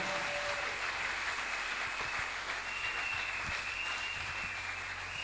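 A church congregation applauding during a Sunday service, sustained, even clapping from many hands filling the room, with a steady tone in the background and no talk over it.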